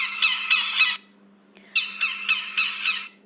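An egret gives harsh, squawking calls, three quick ones, a short pause, then a run of four or five more, loud and close against a quiet background with a faint steady hum.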